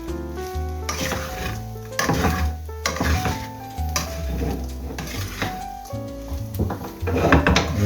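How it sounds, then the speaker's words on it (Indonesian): Nasi goreng with scrambled egg is stirred in a sizzling pan, with repeated scraping and clanking of a utensil against metal over a constant frying hiss, close and lively. "kita aduk kembali."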